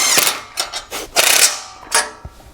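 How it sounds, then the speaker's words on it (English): A socket wrench tightens trailer bracket bolts with a 17mm socket during assembly of a MicroSport Overland trailer, giving several close, bright ratcheting bursts with short pauses between strokes. "we'll go and tighten them up with a 17mm socket and wrench"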